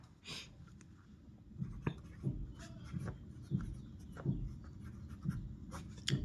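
Someone writes numbers by hand during a maths lesson, producing soft, close scratching strokes of pen or chalk in short repeated bursts with faint rustling and breathing between them.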